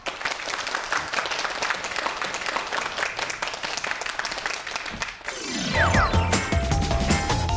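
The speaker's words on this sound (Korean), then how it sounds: "큰 박수로 강연 청해 듣겠습니다." A lecture audience claps in sustained, dense applause for about five seconds, then a louder clattering mechanical sound with ringing tones takes over.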